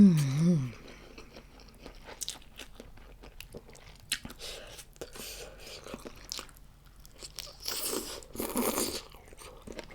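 Someone eating pickled red shrimp with a spicy papaya salad dressing: close, wet chewing and crunchy bites repeat throughout, with occasional slurps and brief vocal sounds, and louder crunching near the end.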